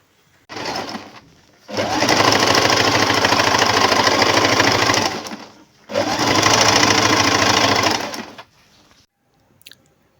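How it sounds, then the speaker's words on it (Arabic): A sewing machine stitching a khimar runs in two loud, close bursts of rapid mechanical whirring, each lasting several seconds, separated by a brief pause and followed by faint clicks. "ايوا نقعد نخيط."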